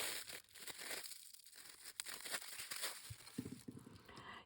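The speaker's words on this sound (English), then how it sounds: "sorry about the crinkling, make sure you close the bag again." Plastic bag crinkling up close while cotton candy charms are handled, a series of soft irregular crackles and rustles, quiet and alone.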